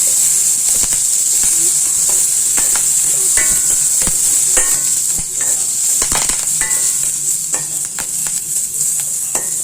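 Onion, ginger and karpooravalli leaves frying in a pan, giving a loud, continuous hiss and sizzle with frequent utensil scrapes and taps, close up.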